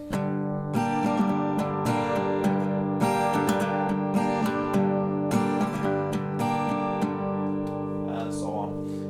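Steel-string acoustic guitar plays a song at standard tempo with an alternating bass-and-top-string picking pattern, steady strummed chords ringing close and clear, no talking over it.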